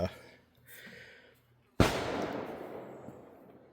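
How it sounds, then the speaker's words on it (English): One distant gunshot from neighbors shooting outdoors booms sharply and trails off in a long rumbling echo, following a stretch of quiet indoor shuffling. "sorry, my neighbors are shooting."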